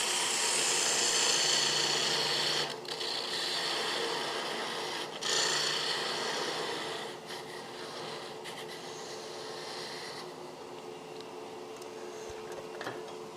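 Wood being cut on a woodturning lathe, a steady broadband rasping and scraping that runs close and loud throughout, easing briefly at a few points as the tool lifts off the spinning workpiece.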